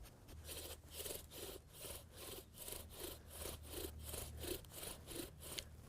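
A wooden bow drill spindle rubbing back and forth on a wooden fire board, a rhythmic scraping of about a dozen strokes in six seconds, quiet and close, with no voices.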